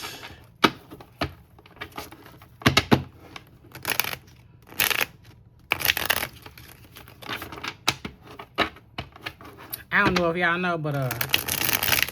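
Quick bursts of tarot cards riffling and slapping together, repeated several times with pauses, while a person talks between shuffles.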